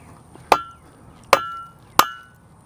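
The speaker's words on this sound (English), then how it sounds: "a little bigger hammer here. That should hopefully help the process here." Four sharp metallic hammer strikes driving a fence post into the ground, evenly spaced about a second apart, each ringing briefly before fading; close and fairly loud against quiet background.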